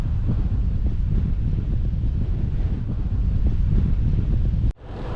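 Strong headwind roaring across the microphone while cycling near Kirkstone Pass above Ullswater, a loud, continuous low buffeting rush that cuts off abruptly near the end.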